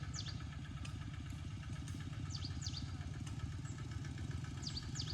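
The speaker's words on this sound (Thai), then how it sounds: "รถไถเขาจะเอามาแกมันเนาะ" A tractor engine chugs steadily near a cassava field, a low continuous rumbling idle at moderate distance, with birds chirping faintly over it.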